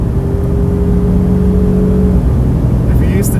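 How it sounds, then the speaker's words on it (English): A 2020 Ford Ranger Lariat FX2 SuperCrew pickup truck under full acceleration gives off a loud, steady engine drone with a sustained tone that climbs slightly before easing near the end. "Here's a little taste of full acceleration in the truck."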